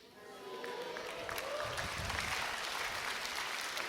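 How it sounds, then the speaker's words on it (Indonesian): Applause from a church service audience of parents and children rises after a quiet start and holds as a steady, dense wash of clapping from a large crowd, with faint voices mixed in. "Jangan tepuk tangan dulu, lakuin dulu"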